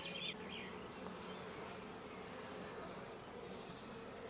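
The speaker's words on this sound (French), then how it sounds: "c'est un essaim qu'on avait récupéré dans le cerisier en bas" A honeybee swarm, recovered from a cherry tree, buzzes steadily around a hive frame, a dense continuous drone of many bees heard close but fairly faint, with a few sharper passes of individual bees near the start.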